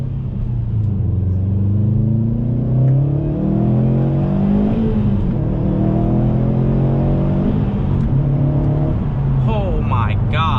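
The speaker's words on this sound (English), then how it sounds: "this is my first time that I'm gonna hear the axle back doing a full wide open throttle pull" A 2020 Subaru STI with an axle-back exhaust makes a full-throttle second-gear pull, its loud, close engine note climbing steadily in pitch for about ten seconds with a rough, rumbling exhaust tone.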